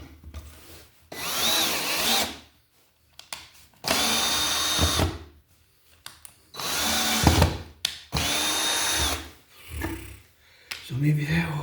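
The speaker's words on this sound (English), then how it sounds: "I can just use a sheetrock screw here to drill the hole" A power drill drives a sheetrock screw through a wiremold outlet box and wire, whirring in several bursts of about one to two seconds each, separated by short pauses, close and fairly loud.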